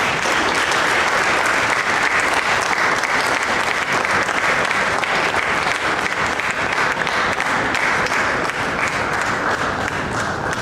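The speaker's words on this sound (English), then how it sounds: "Help me welcome TM Yasser Suleiman with a huge round of applause." Audience at a youth leadership program event applauding as a speaker is welcomed to the stage, a dense, sustained round of clapping from many people, loud and even from start to finish.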